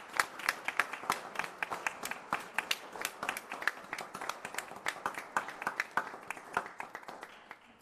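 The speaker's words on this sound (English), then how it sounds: "I ask if everyone in the room can please give this wonderful group a round of applause" A room full of people at a council meeting applauds with steady, brisk clapping. The sound stays at moderate loudness and starts to fade toward the end.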